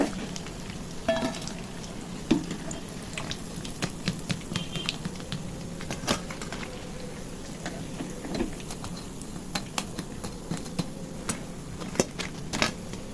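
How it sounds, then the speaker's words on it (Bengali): Egg and flour snack batter frying in a pan of hot oil, a steady crackling sizzle with scattered sharp pops throughout. "এভাবে আমি আবারও আরেকটি ব্যাচ ভেজে নিচ্ছি।"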